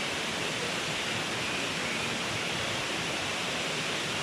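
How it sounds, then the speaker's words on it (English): Steady rushing roar of a waterfall in full flow at Litchfield National Park, a dense, even wash of falling water with no pauses, continuous and moderately loud throughout. "The falls are flowing beautifully."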